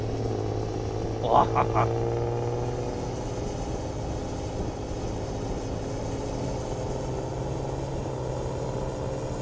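A modded Chevrolet Silverado pickup engine in the farming game Landwirtschafts-Simulator 22 drones steadily at a low, even hum while driving, with a brief exclamation from a person over it early on.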